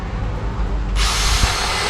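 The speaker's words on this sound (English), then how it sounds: "let's just put a pilot drill" A power drill bores a pilot hole in wood, starting with a low whir and then rising to a steady high-pitched whine that holds to the end, close and fairly loud with no talking.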